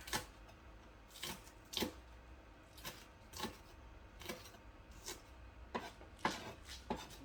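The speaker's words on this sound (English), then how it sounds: "I use the back of my knife because it's just the easiest to chop." Green onions chopped on a board with the back of a knife for a cookout potato salad: a series of sharp, close knocks at an uneven, unhurried pace over quiet room tone.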